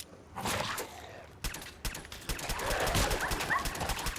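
A dog companion in Fallout 4 whines, yips and barks in quick uneven bursts over dense, busy game sound and gunfire-like crackle, fairly close and loud throughout.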